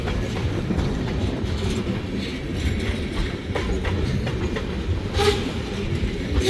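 A freight train of covered hopper cars, including Trinity Industries Leasing cars, rolls steadily past nearby with a continuous low rumble and rhythmic wheel clatter, plus a brief metallic squeal near the end.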